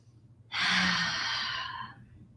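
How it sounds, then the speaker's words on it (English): A single long, deep exhale during a yoga therapy core exercise, a close, breathy rush that starts abruptly and slowly fades over about a second and a half against a quiet room. "Deep breaths in, full breaths out."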